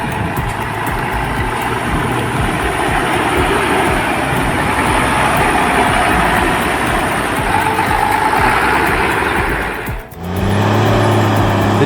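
A John Deere 540G logging tractor engine runs at a loud, steady idle with a constant low rumble, then briefly dips and shifts near the end.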